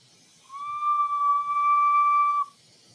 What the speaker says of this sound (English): The beauty is we're going to get an epic whistle.